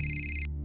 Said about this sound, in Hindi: करिश्मा का फोन तो मेरे पास है